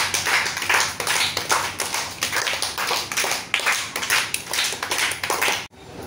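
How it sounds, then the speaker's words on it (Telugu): Children in a classroom clap together for a classmate's story, a dense, steady patter of many small hands filling the room before stopping abruptly near the end. "ఓకే, అందరు క్లాప్స్ కొట్టండి."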